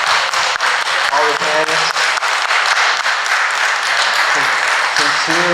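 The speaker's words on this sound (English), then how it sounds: "So let's give them a round of applause." Sustained crowd applause at a tribal council candidates forum, many hands clapping steadily and loudly while a voice speaks briefly over it at moments.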